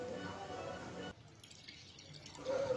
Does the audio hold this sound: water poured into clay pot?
yes